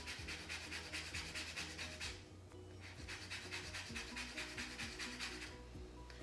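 A lemon rubbed against a grater to take off zest, with steady rhythmic rasping strokes that repeat quickly and evenly, close but quiet, with one brief pause partway through.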